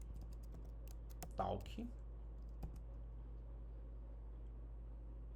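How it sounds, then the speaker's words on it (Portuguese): Keystrokes tapping on a computer keyboard as a name is typed, a scattered run of light clicks with a brief busier burst, close and fairly quiet over steady room hum. "Deixa eu digitar o nome aqui"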